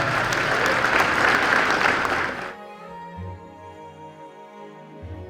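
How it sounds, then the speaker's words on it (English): A crowd at a Korean New Year event applauds loudly for a couple of seconds, then the clapping stops abruptly and quiet music continues. "So please give her a round of applause."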